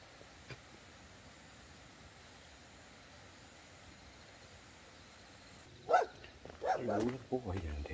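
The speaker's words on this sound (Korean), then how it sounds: "아, 댕댕이." A dog at a rural mountain cave dwelling gives a few short barks and yips close by near the end, after a stretch of quiet background hiss. People speak around the barks.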